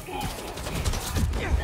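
Rapid enemy gunfire from Spider-Man 2 on PS5 crackles and pops in a dense, loud burst, overlapping a jumble of game effects for under two seconds.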